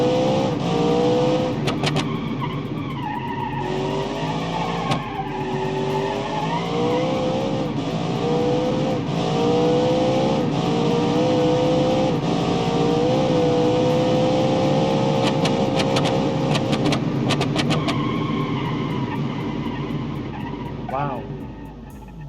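A video-game car's engine revs hard with nitrous boost, a loud sustained rising and falling roar with shifting pitch and a few crackling bursts, close and steady, while a voice talks over it.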